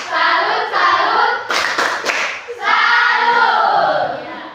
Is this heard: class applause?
yes